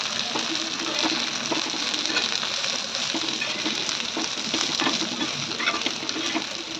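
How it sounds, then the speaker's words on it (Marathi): Onion frying in oil in a pan until reddish, for a masala paste: a steady, continuous sizzle with scattered small crackles, moderately loud and close, with no talking. "आता आपण छान असा त्याला लाल होऊपर्यंत असं तेल घालून फ्राय करायचं आहे"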